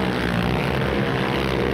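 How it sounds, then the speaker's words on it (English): Off-road trucks at a short course stadium race roar steadily at close range, a dense continuous engine drone with no voices over it. "Just hear those engines roaring."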